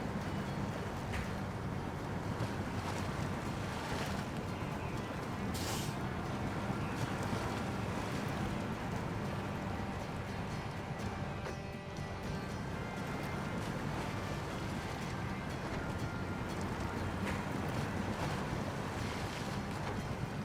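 Heavy truck in SnowRunner ploughing through a flooded road in Alaska on hard mode while hauling an oil delivery, a continuous broad wash of splashing water and engine rumble, steady and loud with no pauses.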